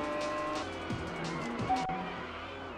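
A car drifts in the Test Drive Unlimited video game, engine droning steadily while brief tire squeals cut in, heard under game sound and a little talk.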